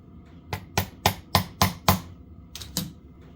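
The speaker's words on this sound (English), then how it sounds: "I took a hammer and kind of tapped on it" A hammer taps a Mikuni TM slide valve into place during a 2002 Arctic Cat ZR 800 snowmobile carburetor rebuild, giving six sharp, evenly spaced metallic knocks followed by two more after a short pause, close up and alone.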